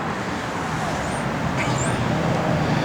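A 1963 Buick Riviera rolls down a street, its steady low road and engine rumble continuous and moderately loud with faint high chirps above, no talk.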